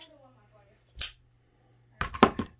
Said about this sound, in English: So I'm going to cut off right below that little seam.